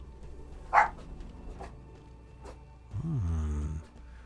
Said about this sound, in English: Those dogs barking through the window at some deer.